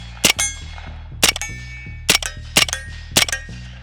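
Suppressed shots from a Nexus Firearms lower fitted with an inexpensive tuna can suppressor: five sharp metallic cracks with ringing tails, spaced about half a second to a second apart, close and loud.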